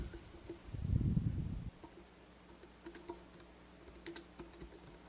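Keys clatter on a computer keyboard as peak names are typed, a quiet irregular patter of taps after a brief low thump near the start.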